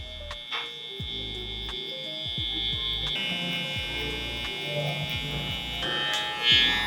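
An electric hair clipper buzzes steadily while a barber trims a guideline, a close, continuous motor hum with brief tapping interruptions and small shifts in tone as the blade works through hair.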